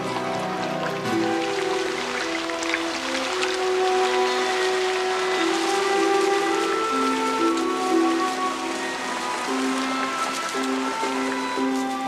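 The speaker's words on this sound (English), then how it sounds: "For weeks at a time, the monsoon lashes India with steady sheets of rain." Monsoon rain falls in India as a steady, dense hiss of drops, under sustained melodic music tones throughout.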